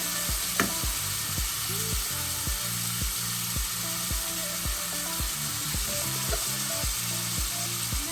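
Bitter gourd sautés in oil in a pan, a steady broadband sizzle with regular scraping stirs about every half second, close and continuous with no talking.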